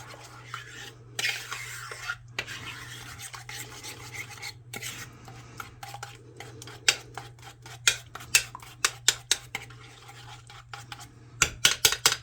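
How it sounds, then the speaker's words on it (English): Brown sugar for crockpot meatballs gets mashed and stirred with a utensil in a pot, producing close scraping rubs and a run of sharp clinking taps against the side, with no talk. "Make sure you got that sugar all mashed up."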